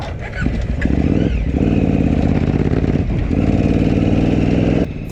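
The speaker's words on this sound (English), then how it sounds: "my carbureted bike is running super rich at elevation and really doesn't handle the bumps and jumps all that well" The carbureted engine of a 2019 KTM adventure motorcycle runs rich at high elevation, a loud, close, steady low rumble with a slight dip in the middle and an uneven, burbling texture.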